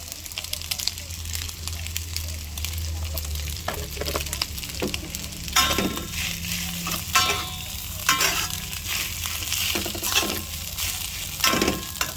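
Fried rice stirred and tossed in a hot pan, with a steady sizzle under repeated scraping strokes of the utensil against the pan; a voice speaks occasionally in the background.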